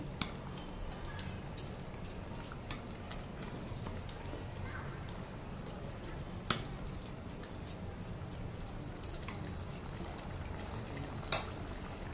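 Masala being stirred and fried in a pan for chicken polao, a soft continuous crackling sizzle with occasional faint ticks and a couple of louder spatula knocks, close but quiet throughout.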